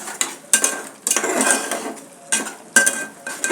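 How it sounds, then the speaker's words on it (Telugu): Metal spoon scraping and clattering against a pot while masala and chicken are stirred and fried for a clay-pot gravy, in several distinct bursts of clinking and scraping separated by brief pauses. "ఇందులో ఈ మసాలా అంతా ఇప్పుడు కలబెట్టుకొని బాగా ఫ్రై చేద్దామంటే రోస్ట్ చేద్దాం"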